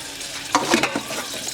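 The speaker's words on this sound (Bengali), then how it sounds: "ছোট মাছগুলো রান্না করবো বেগুন দিয়ে" Small fish and eggplant frying in a pan over a gas stove, a steady close sizzle with a few louder stirring scrapes in the middle.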